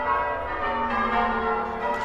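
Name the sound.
church bells ringing at St John's Church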